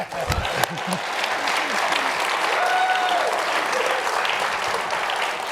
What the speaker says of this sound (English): I want you to give him a round of applause for that.